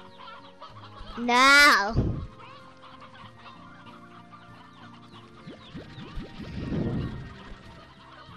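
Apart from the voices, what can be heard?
chickens clucking in a video game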